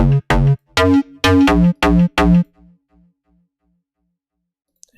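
Tweaked bass synth in FL Studio playing a choppy run of about seven punchy, harmonically rich notes in quick rhythm, then stopping and leaving a few faint decaying tails before near silence.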